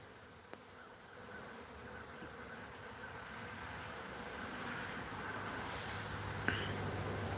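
A steady, dense hum of honeybees swarming around hive boxes runs throughout, with a couple of faint clicks near the start and the end.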